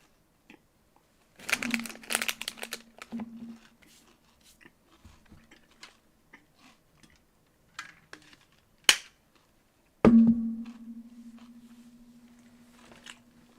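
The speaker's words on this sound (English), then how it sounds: "I ate the fucking bar and now I can't talk" Someone biting and chewing a snack bar, with scattered close crunches and crinkly bursts separated by pauses, one sharp snap partway through, then a louder crunch followed by a fading hum.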